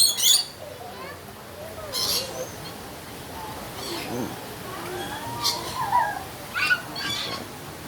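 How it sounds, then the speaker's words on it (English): Birds at a zoo feeding enclosure give scattered chirps, squawks and short calls at middle distance, mixed with crowd murmur and people talking nearby. "Look at the pretty bird."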